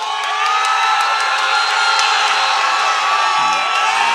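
A crowd at a Fightstar Championship fight roars and whoops after the fighter Pálsson's victory, a loud, sustained wall of cheering and shouting that rolls on without letup.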